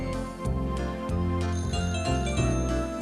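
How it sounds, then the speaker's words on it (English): Telephones ringing all over a village in a children's animated series, heard as a bright, continuous jingling ring layered over music, steady and fairly loud with no talking. "The phones were ringing again"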